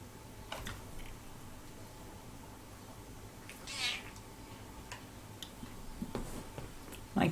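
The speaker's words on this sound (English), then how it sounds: "my kitty, go away, go away. You don't want to come on my lap?" A pet cat named Cepheus meows indoors, a short faint cry around the middle of a quiet room with a soft ticking clock-like sound in the background.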